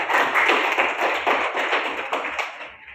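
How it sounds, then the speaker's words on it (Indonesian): Classroom applause from a group of students, a dense, continuous patter of many hands clapping at close range for about three seconds before tapering off at the end. "Berikan aplaus dulu semuanya."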